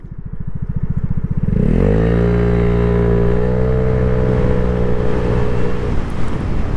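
A Vespa GTS 300 hpe scooter fitted with a J.Costa variator accelerates from a standstill. The loud single-cylinder idle thumps quickly rise into a smooth revving drone, then the engine settles at steady high revs close by, with no voices.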